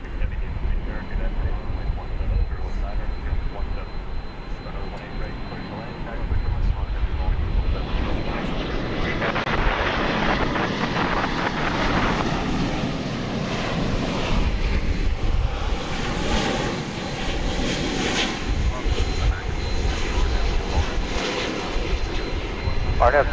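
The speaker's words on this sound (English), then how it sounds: "RNAV Polaris, clear for takeoff from runway 18 left, American 1890." American Airlines jet taking off from runway 18 left at Dallas/Fort Worth airport, a broad engine roar building and holding at a distance while radio voices talk over it.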